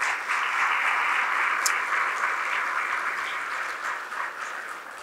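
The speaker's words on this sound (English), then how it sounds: "Another round of applause for them." Another round of applause from the audience at a legislative update luncheon, a steady wash of many hands clapping at moderate volume, slowly tapering off.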